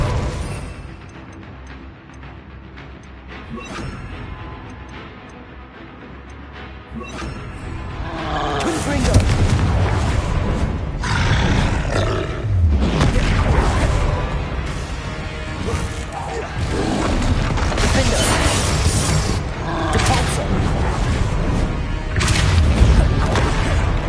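Spell blasts from the Incendio and Confringo fire and explosion spells in the Hogwarts Legacy video game, with loud crashing impacts and booms repeating through a battle, the first few seconds quieter before the combat swells.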